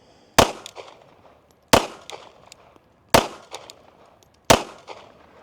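Pistol fired on a shooting range, only four sharp loud shots, each about a second apart with short decaying echoes, no talking over them.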